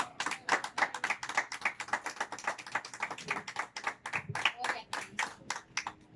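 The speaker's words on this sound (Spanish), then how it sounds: "Dale un aplauso a Dios." Congregation members clap during a Christian sermon, giving a quick, rhythmic run of sharp hand claps close by. The claps are fairly even and keep going for about six seconds, with faint voices mixed in.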